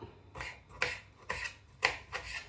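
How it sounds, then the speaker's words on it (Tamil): A knife chops small tomatoes into little pieces on a board, five soft, evenly spaced cuts with a scraping edge, faint and close. "இப்போ தக்காளி இப்படி சின்ன சின்ன துண்டுகளாக வெட்டி போட்டு போட போகிறோம்"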